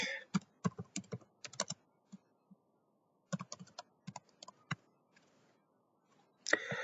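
Someone types on a computer keyboard in quick bursts of crisp key clicks, near and clear, separated by short pauses, with a louder clatter of keys at the very end.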